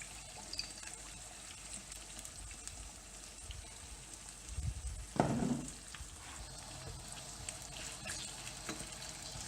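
Sliced potatoes and onions soften in frying oil in a pan for a Spanish omelette, with a low steady sizzle and a brief louder stir or shuffle of the pan midway.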